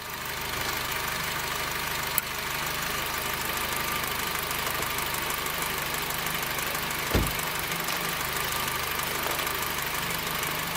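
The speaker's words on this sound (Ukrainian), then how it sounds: "Переключив на газ, чути тепер, додався звук форсунок. Вони так цикають." An 8th-generation Honda Civic engine idles on LPG, a steady close mechanical hum with faint, regular injector ticking running through it and no talking.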